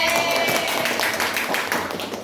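Children clap together in a call-and-response clapping game in an Indonesian classroom activity, a dense run of quick, close, fairly loud claps with no voices.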